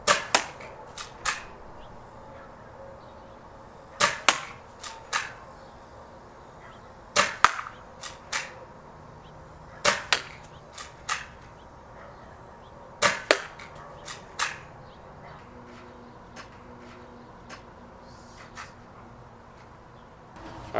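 An Outlaw dart blaster fires Worker Gen 3 foam darts at a target 30 feet away, giving sharp snapping shots in small clusters spaced a few seconds apart, with a light clatter after some of them and no talking.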